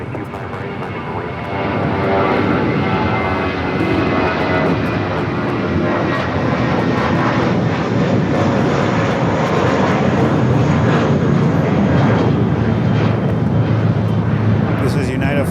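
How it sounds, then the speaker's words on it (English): A United Boeing 737-800 airliner takes off at LAX, its jet engines building from a quieter start into a loud, steady roar that holds throughout, with a faint radio-like voice in the background. "This is United Flight 1743 going to San Francisco on a Boeing 737-800"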